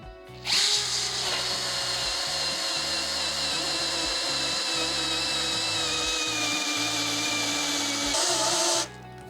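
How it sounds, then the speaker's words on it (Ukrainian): A cordless drill on first speed whines steadily into a pine block, a continuous high-pitched motor drone with a grinding undertone, close and loud for several seconds before stopping. "Отже, брусок в нас сосна. Виставляємо режим свердлення та першу швидкість. Починаємо."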